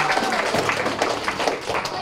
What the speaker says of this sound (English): big round of applause for coming on up here to help me?